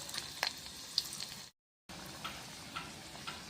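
Spiced lativ vadi frying in oil, a soft steady sizzle with faint crackles, briefly cut to silence midway before the quiet frying resumes.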